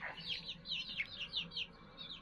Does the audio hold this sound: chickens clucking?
yes